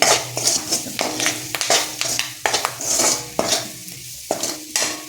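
Boiled taro (chembu) being roasted in a pan, with repeated scraping of a spatula against the metal over a steady low sizzle. The stirring strokes are close, brisk and irregular, and no one speaks.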